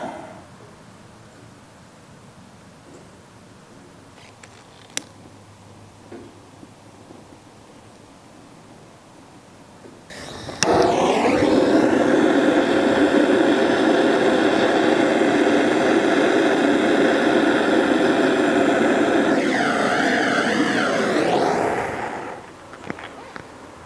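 A torch flame roars steadily as it burns brake fluid, a loud continuous rushing hiss that starts abruptly, holds for about eleven seconds, then cuts off, after a quiet stretch with faint ticks.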